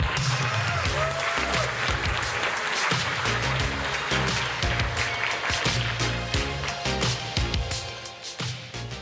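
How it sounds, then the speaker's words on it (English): Conference audience applause at a tech summit, a steady wash of clapping under loud walk-on music with a strong beat, the music carrying on as the clapping thins toward the end. "let's give a warm wave of applause to Janne Pikarainen"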